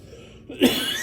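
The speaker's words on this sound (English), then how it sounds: "this cough's getting to me" A single short cough bursts out near the microphone after a moment of quiet room noise.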